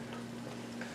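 Rice for arroz con pollo stirred in a pan, with a soft, steady scraping and a low sizzle running throughout; no voices.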